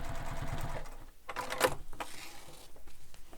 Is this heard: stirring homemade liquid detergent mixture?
no